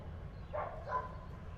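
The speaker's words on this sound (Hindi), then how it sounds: "तो ये कुत्तों ने तो जान खा लिया भाई, चीख चीख के" Several dogs bark at a distance, two short bursts rising over a steady low background hum, faint and without speech.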